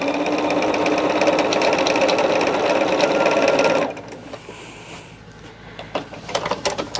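Sewing machine stitching fabric during a Silverstone assembly, running loud and steady for about four seconds, then stopping, with faint handling noises afterward.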